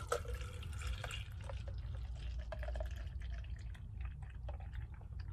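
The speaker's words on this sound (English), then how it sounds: "I'm probably gonna fill it up to like right around there with some milk." Whole milk poured into a shaker bottle for a meal replacement shake, a faint, steady liquid trickle and splash close by over a low background hum.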